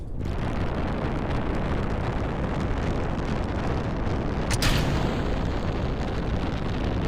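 A rocket engine on a test rig fires in Kerbal Space Program, a steady, loud broadband roar that fills the whole stretch, with a brief hissing burst near the middle and no voices.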